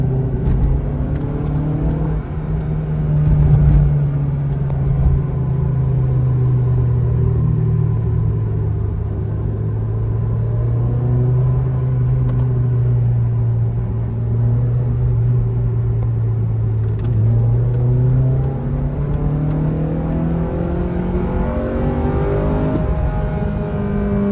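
A Honda CRX engine drones steadily from inside the car while driving, a loud continuous hum whose pitch dips and then climbs as it accelerates, with no talking.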